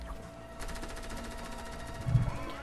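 Distant rapid gunfire in Fortnite, a fast train of faint repeated shots that rattles like an automatic weapon. A soft low thump follows near the end.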